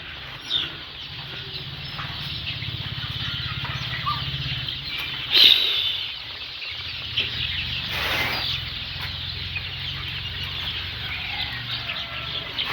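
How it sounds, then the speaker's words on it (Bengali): Egyptian Fayoumi chickens on a farm make soft scattered clucks and a brief burst of wing flapping over a low steady background hum, fairly quiet and without speech. "এগুলো ডিমের রানী বলা হয় মিশরীয় ফার্মি মুরগি"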